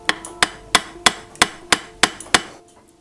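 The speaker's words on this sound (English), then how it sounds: "Take the brass and just tap that in." Eight sharp, evenly spaced metal hammer taps on a brass clock pivot bushing ring out one after another, loud and close, with a brief metallic ring after each strike.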